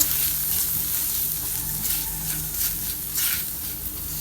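Spices being stirred into a semolina mixture with soft carrots and capsicum in a pan, a steady close sizzle with scraping spoon strokes throughout, no voices.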